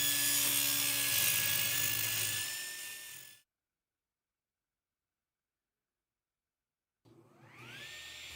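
Table saw with a freshly sharpened blade cutting through 2¼-inch oak: a loud, steady motor whine with a bright cutting roar for about three seconds, a silent gap, then the blade spinning back up.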